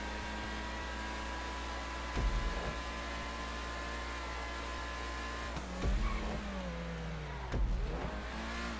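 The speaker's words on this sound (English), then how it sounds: "This doesn't have a terrible engine sound now that I'm really listening to it." The engine of a Pegassi Torero sports car in the video game GTA 5 revs and drones with a steady mechanical hum, surging in pitch a few times as it accelerates; no one speaks.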